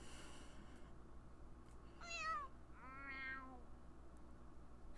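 A cat in The Sims 4 gives two distinct meows a second apart, the first higher and shorter, the second longer and lower, over quiet game background sound with no talking.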